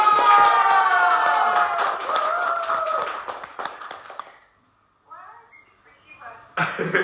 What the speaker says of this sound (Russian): Еще раз наши аплодисменты